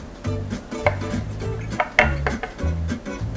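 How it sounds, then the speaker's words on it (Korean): A knife halving cherry tomatoes on a board, a close, fairly loud series of irregular taps and knocks with resonant wooden thuds, no speech. "그리고 방울토마토 2등분 해주시면 돼요"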